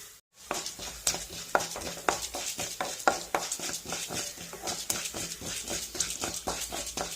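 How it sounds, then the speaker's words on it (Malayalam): Urad dal and rice being stirred and roasted with a ladle in a pan, a quick run of sharp scraping clinks repeating at an irregular beat, close and loud, with no talk. "ഉഴുന്നും കുത്തരി എടുത്തത് ഇതെല്ലാം കൂടെ ഇട്ട് കൊടുക്കാം എന്നിട്ട് പതുക്കെ ഒരു തവി കൊണ്ട് ഇളക്കി മൂപ്പിച്ചെടുക്കാം"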